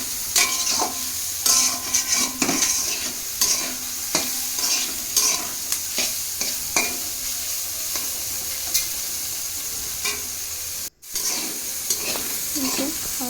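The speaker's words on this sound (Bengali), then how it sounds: "দেখো আমি খুব ভালো করে ভেজে নিচ্ছি" Vegetables stir-fried in a pan for veg chowmein sizzle loudly while a utensil scrapes and stirs in frequent rhythmic strokes up close, with no speech over it.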